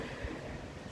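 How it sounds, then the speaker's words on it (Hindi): Wind after a dust storm blows as a steady, broad, gusty rush with no pauses, moderately loud throughout and with no voices. "इतनी अच्छी हवा चल रही है, आपको पता ही चल रहा होगा"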